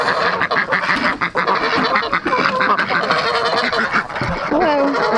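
Ducks or geese quacking and honking close by in a busy, overlapping chorus of calls, with people talking briefly among them.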